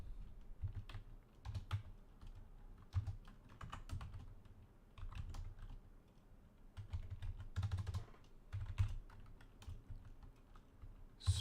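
Typing on a computer keyboard close by, fingers clicking in quick, uneven bursts with short pauses between flurries, quiet and with no talk.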